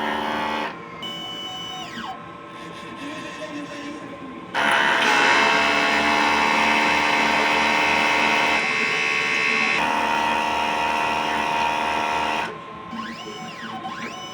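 Inkjet printer running a print head cleaning cycle: a steady mechanical whir with buzzing tones that grows louder through a long middle stretch, then drops back toward quieter motor hum.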